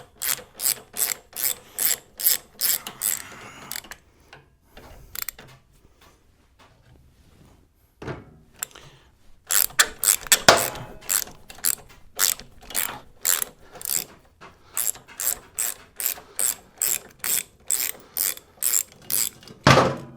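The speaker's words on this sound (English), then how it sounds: "So break both of them free. And spin them right on out of there." Hand ratchet loosening the two kickstand bolts on a Harley M8 Softail motorcycle, with rapid rhythmic clicking bursts, a pause with a few scattered knocks, then more brisk ratcheting as the bolts spin out, close and fairly loud.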